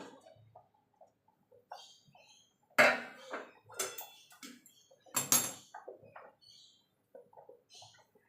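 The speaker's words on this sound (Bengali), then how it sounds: "নামিয়ে রেখে একটা কড়াই বসিয়ে দেবো।" A metal kadai (wok) is set onto a stove in a home kitchen, giving several sharp clanks and knocks among quieter scattered kitchen sounds.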